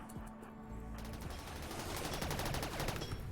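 Rapid gunfire in a RimWorld battle as turrets keep firing: dense, continuous bursts of shots, loud and close, with a brief lull near one second before the volley picks up again, no voices.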